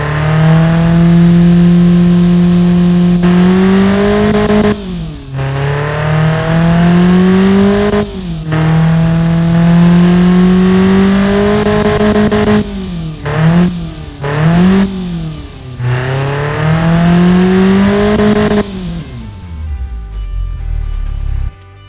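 A tuned Hyundai 1.4L inline-four with a high-performance intake revs repeatedly in the Automation car game, climbing loudly in long sweeps with brief drops between pulls before cutting off into quiet near the end.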